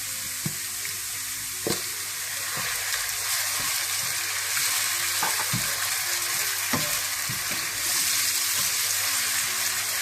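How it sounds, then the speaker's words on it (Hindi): Ground onion paste sizzles and fries steadily in a hot pan after garlic, for pakora curry, with occasional clinks and stirring scrapes, close and continuous, with no voices. "आप इसमें ग्राइंड किया हुआ प्याज डाल दें"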